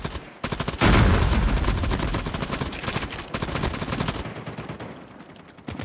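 Loud, close automatic gunfire from a Call of Duty shooter game, with dense rapid bursts of shots hammering steadily for about four seconds before cutting off.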